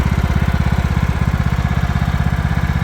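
A 2004 John Deere L110 lawn tractor, reported to smoke badly, idles up close with a loud, steady, rapid low chugging pulse throughout and no voices.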